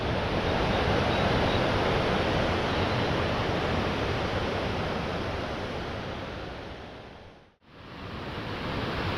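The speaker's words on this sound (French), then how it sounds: "magnifique torrent là qui dévale" A mountain torrent rushes downhill beside a small trail at the foot of Mendaur, a loud, continuous broadband roar of water that stays steady close to the microphone, with one brief dip near the end.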